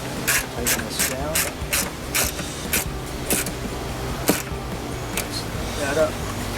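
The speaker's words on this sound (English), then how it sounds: "take the wrench. Tighten this down." Ratchet wrench tightening a bolt while installing a trunk in a Jeep Wrangler JL, rapid clicking strokes in repeated bursts, close and fairly loud, with a voice talking over parts of it.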